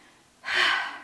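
During a neck stretch, a person breathes out in one forceful, breathy exhale that starts suddenly and lasts about half a second. It is heard close up and alone.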